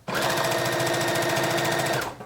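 A sewing machine runs a regular straight stitch at a fast, even rhythm for about two seconds, close and loud, starting and stopping abruptly while sewing a one-shoulder dress.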